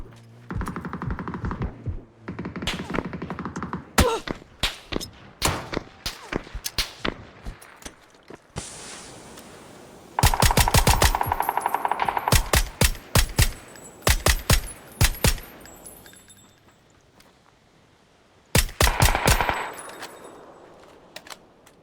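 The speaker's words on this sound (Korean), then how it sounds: "이 집에선 계속 총소리 나는데" Repeated bursts of rapid gunfire in PUBG on the Erangel map, sharp and loud, coming in clusters with quiet gaps and some single shots between them.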